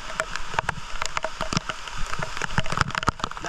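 Rain pattering steadily on surfaces on Malapascua Island, a dense, close patter of drops with no voices.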